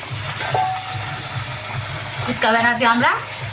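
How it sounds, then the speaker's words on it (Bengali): Puchka puris dropped one at a time into hot oil, a steady bubbling sizzle throughout that swells louder near the end as the dough puffs, with a voice talking over it. "তেলটা এখন গরম হয়ে গেছে, একটা করে ছেড়ে দেবো।"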